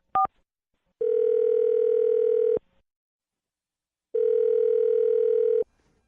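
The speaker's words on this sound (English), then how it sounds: "I'm going to dial her phone number right now" A telephone handset gives a brief tone, then two long, loud, steady dial-tone or ringback beeps separated by silence, clean and close with no talking.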